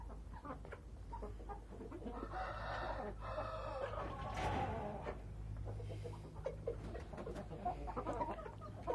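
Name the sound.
rooster and hens on a farm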